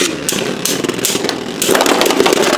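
Beyblade B-117 Revive Phoenix spinning tops clash in a test battle, a loud, continuous whirring and grinding with scraping bursts throughout, close up and with no talk.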